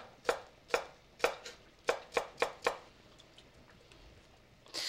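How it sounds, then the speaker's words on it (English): A knife slicing an artichoke very thin on a cutting board: about nine crisp, evenly paced chops, close and clear in a quiet kitchen, followed by a soft rustle. "Then you take the artichoke and you cut it very thin"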